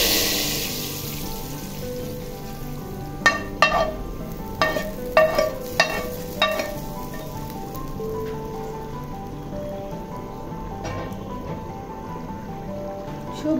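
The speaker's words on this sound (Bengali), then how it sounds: "সবজির মধ্যে ঢেলে দিয়ে একটু নেড়ে চেড়ে দিব।" Fried onion tempering poured into cooked vegetables with snake gourd and lentils and then stirred, producing a continuous soft sizzle with a run of sharp utensil scrapes and clanks in the middle.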